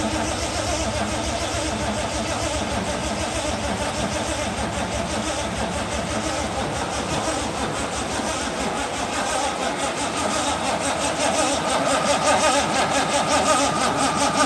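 A 1955 Ford Popular engine, started after more than ten years of sitting, runs with a steady, rough mid-pitched chug that holds continuously and grows slightly louder toward the end, without voices over it.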